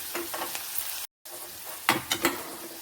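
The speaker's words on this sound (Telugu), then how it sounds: "ఇవిలా వేగుతుండగా ఇందులో ఆనియన్ వేసి వేయించుకోవాలి" Onion and carrot fry with cumin seeds in a pan, soft sizzling under bursts of scraping stirs, close and fairly quiet with a brief silent gap in the middle.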